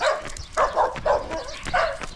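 A neighborhood dog in the countryside barks repeatedly at close range, a run of four or five sharp woofs in quick succession with yelping edges.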